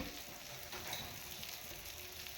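Mackerel (bangda) fries on a traditional wood-fired clay stove (chulha), giving a continuous soft, even sizzle that stays faint and steady throughout.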